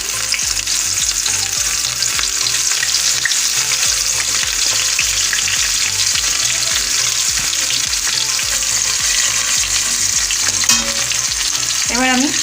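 Chopped garlic, ginger and green chilli frying loudly in hot oil left over from frying chicken for chilli chicken, a dense, constant close sizzle with a spatula scraping steadily through it, and no voices.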